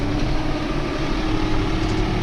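Several New Holland tractors loaded with fertilizer head out toward village pastures, a steady close engine rumble with low idling drone and no talk over it.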